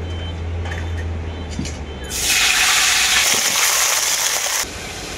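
Bottle gourd greens and cut potatoes dropped into hot oil with toasted bay leaf and nigella seeds, a loud burst of broadband sizzling that starts suddenly and runs steadily for a few seconds before cutting back to a quiet kitchen hum.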